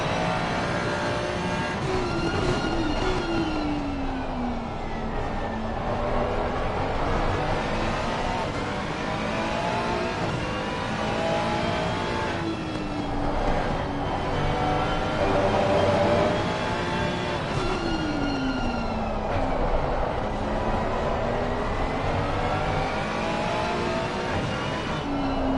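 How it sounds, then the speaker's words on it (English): A race car engine heard onboard in Assetto Corsa Competizione at Snetterton, a loud continuous roar that sweeps up and down through repeated gear shifts, with talk faintly underneath. "You could hear him using the gears"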